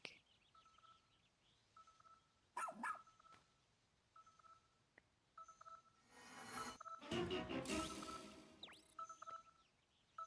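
A small dog barks in short sharp bursts in the Pikmin 4 video game, mixed with repeated electronic beeping tones and a loud rushing burst of game sound in the middle.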